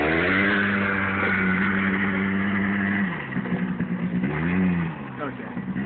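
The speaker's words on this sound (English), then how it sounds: "He's got a small four-wheeler" A small four-wheeler ATV engine revs steadily and loudly throughout, with pitch dipping and rising toward the end during an off-road outing among friends.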